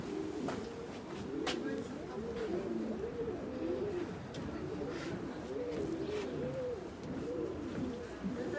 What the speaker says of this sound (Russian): Мы идем, и голуби такие, слышите?